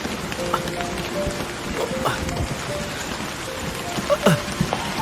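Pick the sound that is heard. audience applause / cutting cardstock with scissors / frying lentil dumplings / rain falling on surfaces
rain falling on surfaces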